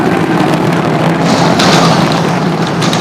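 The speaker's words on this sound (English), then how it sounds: "And we just heard the sonic boom." A sonic boom from a descending SpaceX Starship Super Heavy booster, heard as a loud, sustained broadband rumble with sharper thuds rolling through the three seconds.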